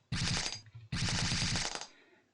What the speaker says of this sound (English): Ooh, a nail gun. Let's get some nails, or flechettes as they're called.